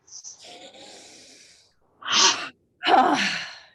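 Deep, forceful breaths taken during a guided breathing exercise: a long drawn inhale, then two sharp, loud huffing exhalations separated by brief silences, close up.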